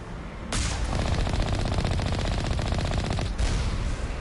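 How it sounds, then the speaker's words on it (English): Rapid automatic gunfire from the Mass Effect video game, a dense, fast rattling burst that runs continuously for nearly three seconds with a brief pause and restart, loud and close with no talk. "They could even change the sound effects for the gun."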